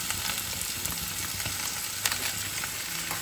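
Spices sizzle steadily in a hot pan with mustard paste, coriander powder, cumin powder and turmeric, a continuous close crackling fry with occasional stirring scrapes.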